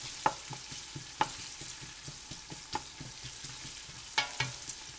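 Onions and garlic sauté in a pan with a soft, steady sizzle, broken by a few sharp scrapes and clinks of a stirring utensil against the pan.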